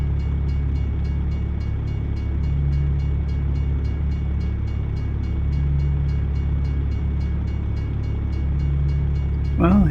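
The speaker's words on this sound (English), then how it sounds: "Well, here we are, stuck waiting for the train to come by." Train rumbling past a road crossing in American Truck Simulator, set in southern Arkansas: a steady, loud low rumble with faint periodic clacking throughout, and a brief sharper burst right at the end.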